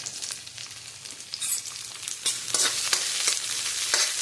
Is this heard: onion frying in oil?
yes